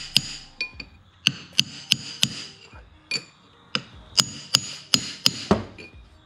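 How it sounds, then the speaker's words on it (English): Sharp metallic hammer strikes on a punch ring out in an uneven series, about a dozen blows with brief ringing decay, close up and loud, knocking down a ring while rebuilding a New Holland 1036 bale wagon hydraulic cylinder. "Just take your hammer and a punch and just knock it down."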